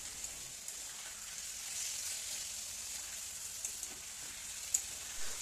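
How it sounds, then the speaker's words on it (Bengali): Chicken frying on a high flame in a home kitchen gives a faint, steady hiss with light crackle throughout, close but low in level, with one small clink near the end. "ভালো করে হাই ফ্লেমে আমি একটু ভেজে নেব কড়া করে।"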